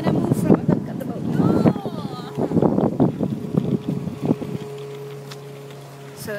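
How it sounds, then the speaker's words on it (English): A motorboat on the water, with a steady engine drone mixed with wind buffeting the microphone and voices talking over it; the sound eases into a steadier hum toward the end. "So that's the motorboat"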